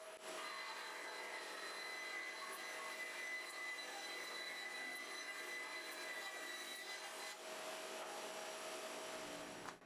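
A band saw cuts a curved line through a wooden board in a woodworking shop while building a TV rack: a continuous, even whir with a faint steady whine runs for about ten seconds, then cuts off abruptly at the end.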